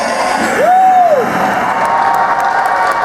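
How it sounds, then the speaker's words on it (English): A crowd at a comic expo panel applauds and cheers loudly, a dense continuous wash of clapping with a brief whoop early on. "Right now, I'd like a tremendous round of applause for my ass."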